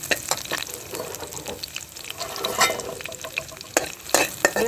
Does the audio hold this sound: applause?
no